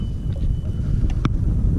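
Wind blows by the sea on a cool, sunny day, a constant low rush against the microphone with a few faint higher-pitched chirps or squeaks over it, heard alone without talk.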